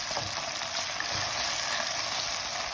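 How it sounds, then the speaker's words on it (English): Onions frying steadily in a pan with green chili paste for an egg malai curry, a continuous close sizzle and crackle with no talking. "This needs to be fried nicely"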